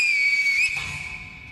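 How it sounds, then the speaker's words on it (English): A steady, shrill in-game whistle from Sekiro holds one bright tone, wavers slightly, then continues a little softer, heard alone without talk. "we can now use the whistle"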